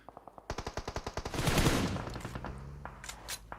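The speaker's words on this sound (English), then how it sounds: "Constantly setting off barrages of bullets right now." Rapid machine gun fire in the mobile shooter PUBG Mobile during a global esports championship match: a long run of evenly spaced sharp shots, then a heavier overlapping barrage that fades into scattered single shots.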